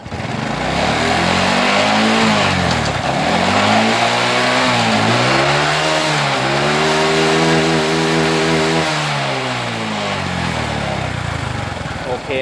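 A Honda Wave 125i motorcycle engine revs in first gear nearby, loud and steady, its pitch swooping up and down through repeated throttle blips over about twelve seconds, with a voice talking underneath.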